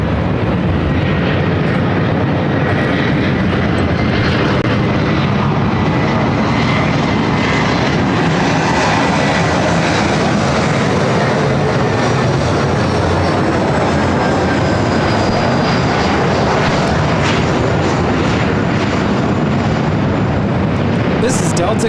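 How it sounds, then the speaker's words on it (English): An old Northwest Airbus A320 airliner at LAX, its jet engines producing a loud, broad, sustained roar that dominates throughout. "Flight heading to Denver, flight 1049, and this old Northwest A320."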